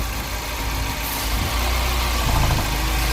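A 2007 Mini Cooper S engine idles with a lumpy, uneven low rumble, steady and close throughout with no talking.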